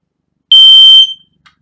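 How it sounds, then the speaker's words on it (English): A household smoke alarm sounds its test: one loud, piercing electronic beep lasting about half a second, then a faint short chirp a moment later, with no one speaking. "So to test your smoke alarm, you'll find the button that says push and hold to test"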